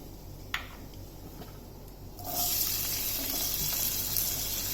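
Onions, spinach and coriander hit a hot pan at once, a soft thud followed by a sudden rise to steady, loud sizzling that continues alone.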